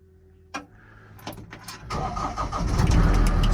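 A Roxor utility vehicle engine starts on a cold morning of about 35°F, with a sharp cranking burst followed by the engine catching and settling into a steady, building idle close by.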